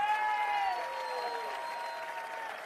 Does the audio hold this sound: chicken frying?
no